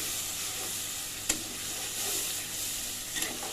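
Garlic paste sizzles steadily in a hot pan with spices, a close, even frying hiss broken by one or two brief clinks of stirring.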